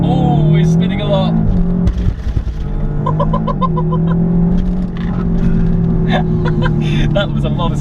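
A Golf R or Cupra 290 hot hatch on a hard launch, with loud engine revs and wheelspin flaring and rising in pitch, heard close up. Voices talk over the noise of the car.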